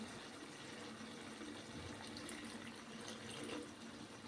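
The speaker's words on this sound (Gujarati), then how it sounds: "હવે આપણે આમાં પાણી નાખી અને આને પાકવા દઈશું" Water poured into a pot of vegetable khichdi, a steady, even splashing pour at close range that runs unbroken for about four seconds with no talking.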